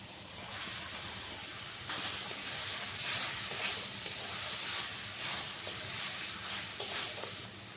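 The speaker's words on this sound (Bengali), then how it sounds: "মশলা যখন সব ভাজা ভাজা হয়ে গেছে তখন আমি দিয়ে দিচ্ছি ভেজে রাখা পটল।" Fried pointed gourd is tipped into a pan of sizzling fried spices, and the constant hiss jumps louder at the moment it lands, then keeps crackling steadily up close.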